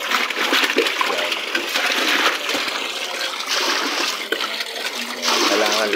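Water running during a rainstorm power outage, a steady broad rushing and splashing that continues throughout, with a voice talking over it.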